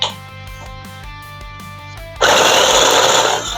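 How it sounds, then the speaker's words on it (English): A food processor grinds vanilla Oreo cookies, starting with rhythmic chopping pulses as the blade catches pieces, then jumping into a loud, steady whirring roar for the last second or so, close up. "now we're going to grind up about a 1/4 cup of our vanilla Oreos in a good old-fashioned food processor"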